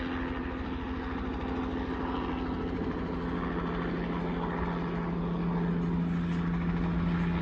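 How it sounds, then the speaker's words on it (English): Low-flying helicopter overhead, a constant loud rumbling drone with steady rotor and engine hum throughout, close and unbroken, no voices. "we noticed there's a helicopter flying over top. Maybe they're checking out the yard. That is extra low."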